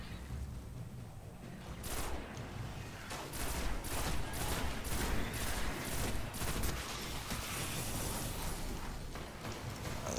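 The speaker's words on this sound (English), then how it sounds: "Let's change to a pulse rifle." Rapid pulse rifle fire in Destiny during the Devils' Lair strike, a steady run of loud clustered bursts over a dense roar of combat noise.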